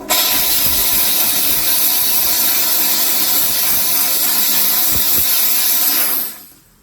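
Steady, loud hiss of a Dupray Tosca steam cleaner working on bathroom buildup while it is scraped, continuous for several seconds with a couple of faint knocks before cutting off.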